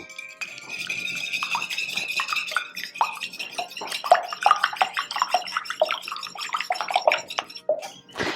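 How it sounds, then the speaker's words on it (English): Eggs being lightly whisked in a bowl give a close, busy run of rapid clinking and sloshing strokes that continue steadily for several seconds with no talk. "we want kind of a light whisk on these eggs"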